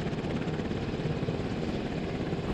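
A military medical evacuation helicopter at a mass-casualty training exercise produces a steady, dense rotor and engine roar, loud and continuous with a rapid rhythmic chop and no voices.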